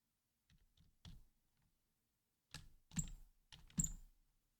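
Keys clatter on a computer keyboard as a username and password are typed, a few light taps at first, then a pause, then three louder bursts of quick, close clicks in a quiet room.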